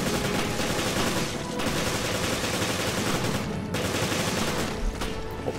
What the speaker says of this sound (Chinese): 他们会喷一些那个冲锋枪子弹